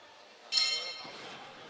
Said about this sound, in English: Both boxers keen to answer the opening bell.